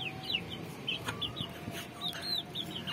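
Chickens and a rooster cluck and chirp in short, scattered bursts over a steady low background hum, fairly close and moderately loud.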